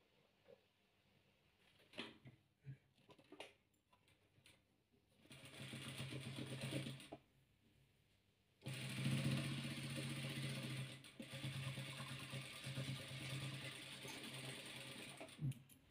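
A sewing machine stitches patchwork strips together. A few clicks and handling taps come first, then two bursts of steady whirring stitching, the second long and continuous. No one speaks.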